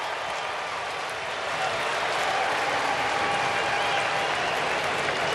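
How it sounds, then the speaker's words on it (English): A road crowd at a Los Angeles Angels at Seattle Mariners baseball game reacts to a fly ball, a broad, sustained roar that swells and holds loud throughout. "The anticipation, even by the road crowd, every time Ohtani puts a ball up in the air"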